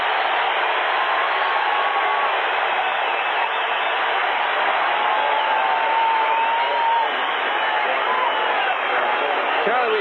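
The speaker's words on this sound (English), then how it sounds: "This is the crowd reacting to the defense of the Oakland Raiders." A football stadium crowd roars steadily in reaction to the Oakland Raiders defense during a 1980 wildcard playoff game against the Oilers, a loud, continuous wash of cheering with no breaks.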